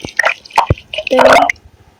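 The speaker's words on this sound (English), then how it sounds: "So making use of this pouring water effect." A pouring water sound effect used for a product motion advert, heard as short splashing, dripping bursts that build into a louder gush before stopping.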